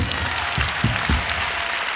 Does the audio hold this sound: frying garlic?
no